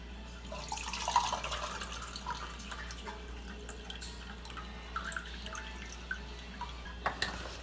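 Boiled natural flu remedy being poured out, producing soft, continuous liquid dripping and trickling at close range over a low steady background hum, with no talking.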